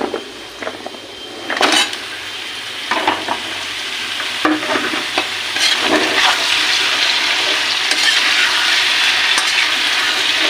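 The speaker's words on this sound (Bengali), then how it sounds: "এইবার আমাদের কেটে রাখা যে তরমুজের খোসাগুলো সেগুলো এবার আমরা দিয়ে দেব" Watermelon rind pieces sizzling and frying in a pan for a vegetarian curry, with steady close hiss broken by scraping stirs and clatter of the spatula.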